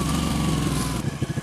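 A Ducati 1199S Panigale's engine holds a loud, close, steady drone, then drops into a lumpy, pulsing idle-like throb for the last half second.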